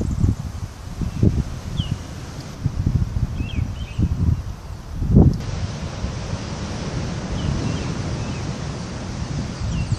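Gusty wind buffets the microphone in bursts over a steady roar of nearby ocean surf, with faint bird calls in the background, on the coast of Réunion Island.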